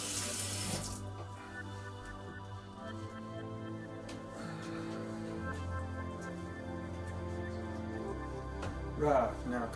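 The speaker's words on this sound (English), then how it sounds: "Just rinse off my hands." A kitchen water tap runs steadily into a sink while hands are rinsed, a continuous close splashing stream with a brief louder gush near the end, and a person speaks nearby.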